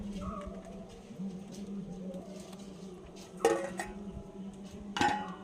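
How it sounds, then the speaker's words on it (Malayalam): A plate and dishes are handled in a home kitchen: quiet shuffling under a low background hum, then two sharp clattering clinks a couple of seconds apart. "ഞാൻ ഒരു പാത്രം എടുത്തിട്ടുണ്ട്"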